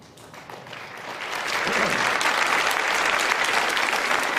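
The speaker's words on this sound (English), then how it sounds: "She's out here getting applause for walking out of Dr. Phil's show" Studio audience applause on a daytime talk show swells from a light start into loud, sustained clapping from a large crowd.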